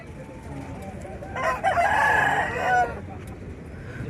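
A rooster gives one full, loud crow at the Gudur poultry market, the call rising and holding before falling off, against a steady murmur of background noise.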